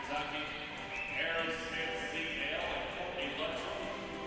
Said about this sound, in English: That's a real nice horse right there.